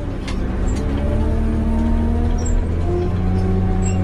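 A New Holland RG170B motor grader engine drones steadily and loudly at close range, a constant low rumble with a humming tone running unbroken throughout.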